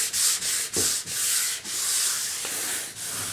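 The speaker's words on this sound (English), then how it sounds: "what I'm doing is I'm wet sanding." Wet sanding an Atari Video Pinball cabinet, a steady loud scrubbing rasp in repeated back-and-forth strokes with brief pauses between passes, no talking.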